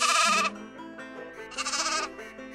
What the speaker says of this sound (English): the sheep, well, he said, "Baa!"